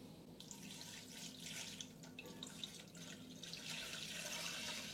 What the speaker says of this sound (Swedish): I jästen häller jag i lite mjölk.